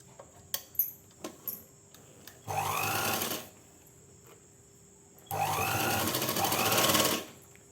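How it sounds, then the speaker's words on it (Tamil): A sewing machine stitches a salwar pant in two sustained runs of fast, even mechanical whirring, the second run longer, with a few sharp clicks from handling the cloth before the first run. "இப்படி தைச்சு அடிச்சுட்டு வரோம்"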